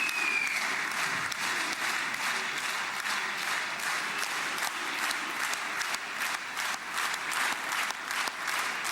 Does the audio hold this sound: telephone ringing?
no